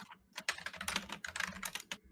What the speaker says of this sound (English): your typing's like super loud